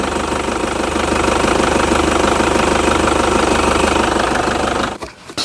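The warmed-up 3000 cc 1KD turbo diesel of a Toyota Hilux double cab idles loudly and close, with a steady rapid knocking clatter before it cuts off abruptly near the end.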